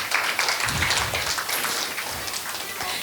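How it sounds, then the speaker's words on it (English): Audience applause at a Madhura Girish event, a fairly steady wash of clapping from a crowd in a hall, moderately loud and sustained for the whole few seconds with a faint voice or two underneath. "let's have a huge round of thunderous applause for our mentor's mentor and also to our mentor"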